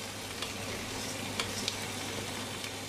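Lentils, bulgur and rice sauté in a pot with a soft, steady sizzle and faint stirring scrapes, a few brief clicks of a utensil against the pot, no voices.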